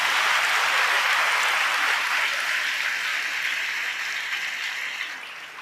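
A congregation clapping to glorify God in a church on Good Friday, a loud, thick roar of many hands that gradually tapers off.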